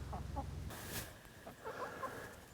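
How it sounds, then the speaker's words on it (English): Egg-laying hens in an electric net fence on a permaculture farm give soft, intermittent clucks, fairly faint against a quiet outdoor background. "Here we have 35 egg-laying birds, and they're inside an electric net fence."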